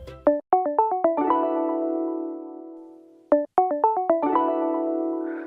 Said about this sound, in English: you'll hear that little beep at the end of it